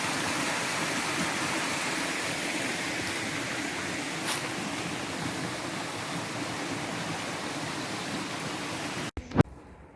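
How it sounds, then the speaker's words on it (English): Spring water from the mountains near Alanya, Turkey, flows as a steady, full rushing wash of a stream, constant and close throughout, with a brief clatter near the end. "So this water is actually like spring water that's coming from the mountains."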